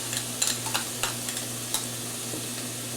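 A quarter of a Vidalia onion fries with ground beef in leftover grease for chili dog topping. The pan gives a continuous close sizzle broken by light scattered clicks of a stirring utensil, over a low steady hum.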